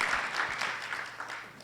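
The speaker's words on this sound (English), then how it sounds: "So give him a round of applause." Applause from an audience at a film premiere panel, a steady wash of clapping that stays fairly faint and even throughout the short stretch.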